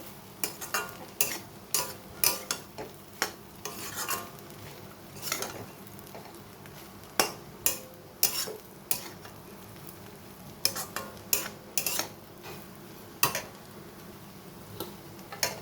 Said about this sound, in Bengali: লোটে মাছটা যদি সিদ্ধ করে এরকমভাবে কাটা ছাড়িয়ে নেওয়া যায়, তাহলে এটা এরকম ঝরঝরে ভাজা হয়ে যায়।